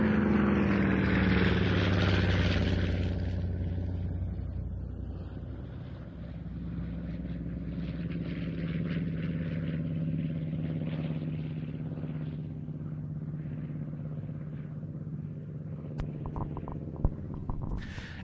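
A Curtiss P-36 Hawk 75 radial-engine fighter flies past at an evening airshow at Duxford, its engine rumble swelling loud at first, then fading and drifting as it moves away, with a sweeping propeller drone throughout.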